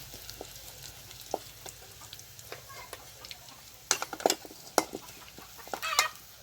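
Onions, chilies and curry leaves sizzling in hot oil in a pan, with a steady crackle and sharper pops and spatters growing busier toward the end, close by.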